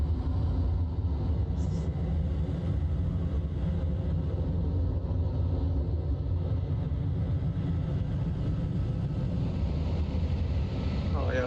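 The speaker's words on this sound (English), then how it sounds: "yeah, I can hear some traffic around here." Steady low rumble of airport ground traffic and idling jet engines at a Bangkok gate with the jetway connected, beside a Boeing 777 in a flight simulator game, continuous and moderately loud throughout.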